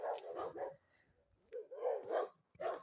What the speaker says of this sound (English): The dogs love Magda and they want to be with her.